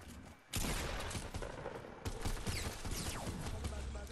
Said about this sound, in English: I think I just got shot at.